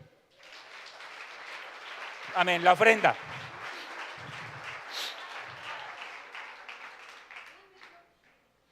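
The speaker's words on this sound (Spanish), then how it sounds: "Regálame un aplauso al Señor" A church congregation at a live Sunday service applauds steadily for several seconds, while a voice speaks briefly over the clapping partway through.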